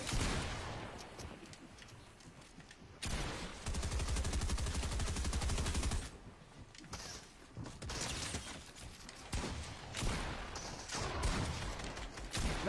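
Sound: gunshots in a video game

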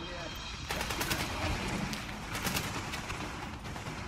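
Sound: enemy gunfire in The Division video game

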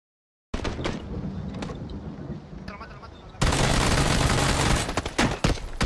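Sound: gunfire from an enemy in PUBG video game

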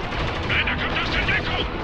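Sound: heavy gunfire in video game Spec Ops: The Line

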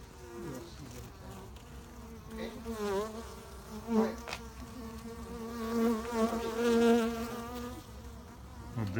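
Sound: bees buzzing and flying

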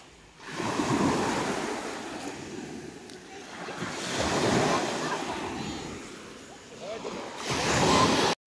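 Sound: waves on Kaputaş beach, Kaş, Turkey

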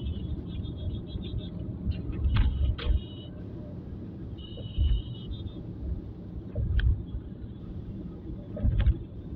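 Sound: road traffic on the Bangla Motor flyover, Dhaka

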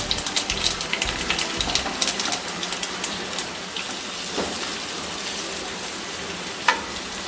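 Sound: multigrain muthiya frying in tempering with curry leaves and sesame

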